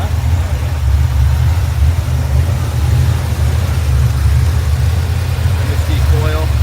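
A 1955 Chevrolet Bel Air with a V8, MSD coil and Edelbrock carburetor idles close by in a steady, loud, low rumble throughout, with a voice briefly heard.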